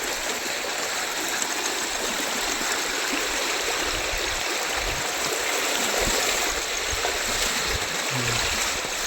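Floodwater runs after a heavy nighttime downpour, a steady, loud, continuous rushing with no break, like a strong stream close by.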